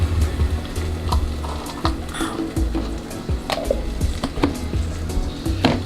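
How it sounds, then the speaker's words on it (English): Coconut sizzles in a pan while a spoon stirs it steadily, giving repeated scrapes and knocks over a constant frying crackle, close and fairly loud, with no speech. "Make sure you stir that because I don't want my coconut to burn."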